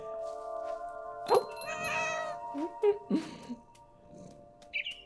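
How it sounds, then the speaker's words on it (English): A cat meows several times in the video game What Remains of Edith Finch, short distinct calls over a steady tonal game soundscape, with a faint bird chirp near the end. "We can hear purring."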